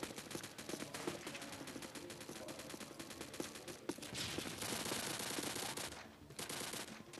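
Rapid gunfire from the Pixel Strike shooter game, pistol shots cracking in dense, continuous bursts over busy game sound for the whole stretch, with brief dips near the end.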